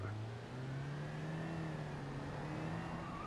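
A station wagon engine accelerating in the BeamNG driving game, a steady rising drone that climbs slowly in pitch, continuous and close with no talk.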